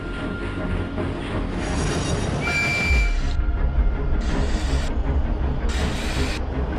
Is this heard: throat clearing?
no